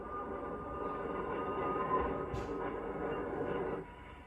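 Freight train cars rumbling steadily through a rail yard where cars from across the western United States and Canada are sorted, a continuous low rolling drone with a brief higher squeal midway before the noise drops off.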